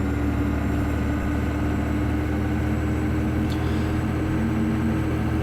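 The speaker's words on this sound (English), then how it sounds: "This is a geared diesel engine, so as the speed goes up, you'll hear the gears change." A Stadler RS1 geared diesel railcar in a train simulator game drones steadily, a loud continuous low engine hum with a faint brief click partway through and no talking.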